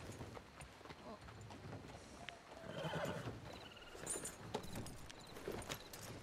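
Horse in a western-themed video game gives a clear neigh and whinny, with hooves clip-clopping steadily through a noisy background; people talk faintly alongside.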